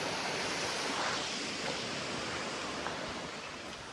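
Roadside Somtirth waterfall at Nivendi, Ratnagiri, a steady broad rush of falling water, loud and close, with no voices.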